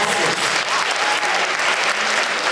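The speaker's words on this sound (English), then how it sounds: "I'm gonna pause because we need to clap for that." A crowd at a charity reception claps steadily, loud and continuous, with a few faint voices mixed underneath.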